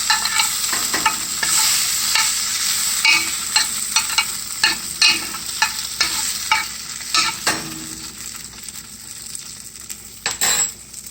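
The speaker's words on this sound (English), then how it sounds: "You can hear them sizzling." Steady sizzling and frying crackle of canned potatoes cooking as home fries in a pan, close and fairly loud, with occasional clinks of a utensil stirring against the metal.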